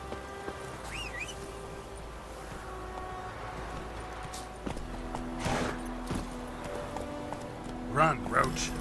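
Roach the horse gallops in The Witcher 3, with steady close hoofbeat clip-clops over game ambience and a brief voice near the end.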